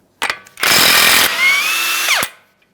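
A power tool, likely an impact wrench, removing a 32mm axle nut on a 2013-2020 Ford Fusion, whirs loudly, briefly pauses, then spins up again with a rising whine before cutting off abruptly.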